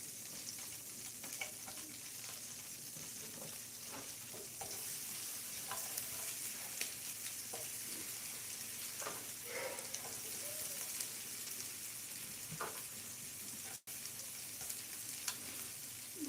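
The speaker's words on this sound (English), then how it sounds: "Butter in the pan. Onions go in." Onions cook in melted butter in a pan, giving a soft, steady sizzle with light scattered crackles, fairly quiet and uninterrupted.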